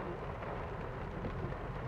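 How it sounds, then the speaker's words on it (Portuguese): Steady rain starts falling along a road, a continuous broadband hiss at even loudness throughout, no voices. "A chuva aí, ó. Começando a chover."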